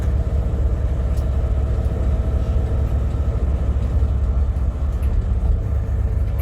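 Steady low engine rumble heard from the rear seat of a 2024 Mercedes Yankee Line express shuttle bus in Boston traffic, a continuous droning hum with no talk.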